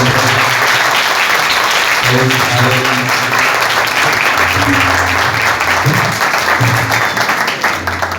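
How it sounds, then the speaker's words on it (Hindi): An audience at a Christian worship evening claps loudly and continuously, a dense wash of applause over a low sustained musical tone, tapering slightly near the end. "जोरदार तालियां बजा दें।"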